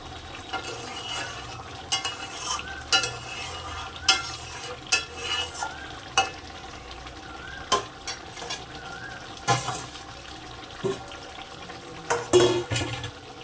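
Fish curry of small tangra fish being stirred in a pan with a little garam masala, a spoon scraping and clinking against the metal at intervals over a soft, steady simmer, with no talking.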